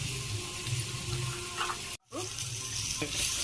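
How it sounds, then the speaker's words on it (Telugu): Onion pieces frying in oil with green chillies in a pan, a dense continuous sizzle close by, briefly cut off for a moment near the middle before resuming. "తర్వాత ఉల్లిపాయ ముక్కలు వేయాలి"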